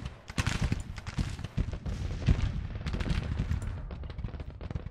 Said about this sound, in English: Abercrombie taking shots at the enemy already.